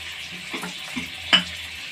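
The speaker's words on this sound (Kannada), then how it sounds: "ಈ ಕಡೆ ಚಿಕನ್ನು ಕೂಡ ಫ್ರೈ ಆಗ್ತಾಯಿದೆ" Chicken frying in a pan for a village-style chicken curry with field beans: a close, soft sizzle with a few brief stirring scrapes.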